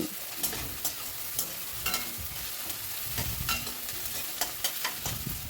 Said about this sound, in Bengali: সেটা দিয়ে সব কিছু ভালো করে মিশিয়ে একটু নাড়াচাড়া করে নিচ্ছি